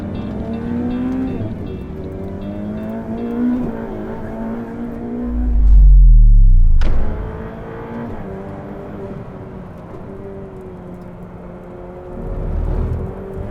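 A Ferrari 488 Pista sports car drives on Ferrari's Fiorano racetrack, its engine a steady loud drone with shifting pitch, swelling into a louder pass-by roar near the middle before settling back to a continuous engine note.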